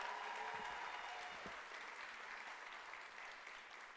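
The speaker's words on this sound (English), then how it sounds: "give them a round of applause" An audience at a graduation ceremony claps steadily in a large room, a broad, even wash of applause heard at a distance that slowly fades.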